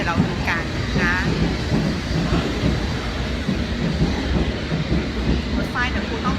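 A train runs along the rails in England, with a steady rumble and clatter heard from inside the carriage and occasional faint squeals over the wheel noise, and a voice talking beneath.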